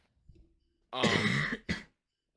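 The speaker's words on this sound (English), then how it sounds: "If you hear me coughing, it is because I think I'm getting sick." One harsh, rasping cough or throat clearing close to the mic, followed by a shorter second burst, after a moment of near silence.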